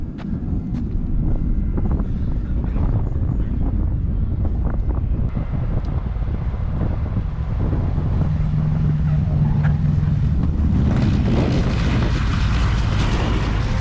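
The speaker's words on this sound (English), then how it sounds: "A-18 Super Hornet coming in for landing" F/A-18 Super Hornet jet approaching to land at the Stuart Air Show, a broad distant roar buffeted by heavy wind on the microphone, swelling into a rising whine near the end.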